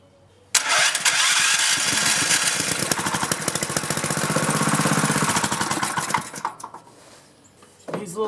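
A small engine cranks and catches after the key is turned, firing into a loud, close, rapid mechanical chatter that runs for several seconds before sputtering and dying out, then briefly tries again at the end.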